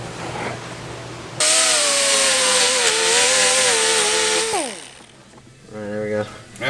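Power sander working a plastic fender on a Jeep Wrangler JL: a loud, steady high whine that holds for about three seconds, wavers, then spins down, with voices and quieter tool noise around it.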